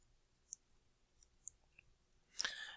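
Mouse clicks on a computer in XTM Cloud software, a few faint sharp ticks spaced apart in a quiet room, followed by a louder burst of clicking handling at the end.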